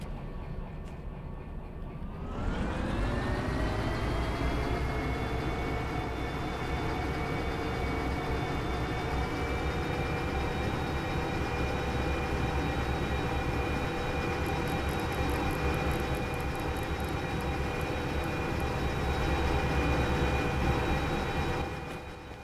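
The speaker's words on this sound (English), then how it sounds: "That's a heavy train." A heavy freight train in the Derail Valley rail simulator game rumbles steadily with a rising engine drone that settles into a constant loud hum and rattle, close and unbroken for the full stretch, with no talk over it.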